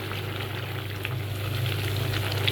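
Curry with ghee and spices sizzles steadily in a pan, a constant close frying hiss with a low hum of the stove beneath and occasional small pops.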